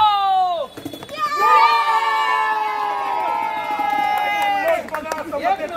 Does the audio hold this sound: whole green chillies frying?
no